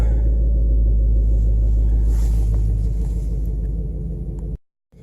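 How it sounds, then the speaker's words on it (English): A Ford Mustang with a 6-speed manual idles loudly while warming up, a deep, steady engine rumble holding a low throbbing tone for several seconds before cutting off abruptly near the end. "while the car's warming up a little bit"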